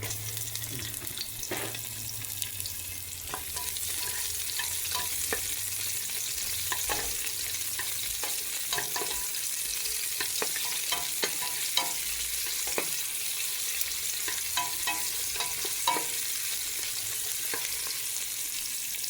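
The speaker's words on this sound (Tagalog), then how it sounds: "Ginigisa ko muna sa luya, bawang at sibuyas para mas lalong masarap." Ginger, garlic and onion sautéing in hot oil for sinigang: a steady, close sizzle runs throughout, broken by repeated clicks and scrapes of a utensil stirring the pan.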